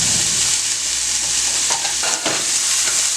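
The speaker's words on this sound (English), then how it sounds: "I have here a half of onion, and I'm going to saute that onion." Half an onion sautéing in olive oil in a pan gives a steady, close sizzle with a few soft stirring scrapes near the end and no talk.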